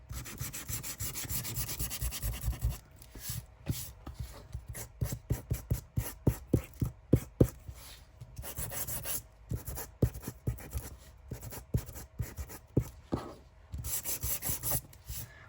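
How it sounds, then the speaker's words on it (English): An electric sander works over a craft junk journal made from a Christmas stash, giving dense rhythmic rubbing strokes in quick bursts, close and steady, with brief pauses between passes. "Get my sander."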